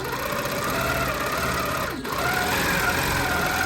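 A longarm quilting machine stitches free-motion swirls, giving a steady, continuous mechanical whir at close range with one brief dip when the motion pauses, then resuming at the same level.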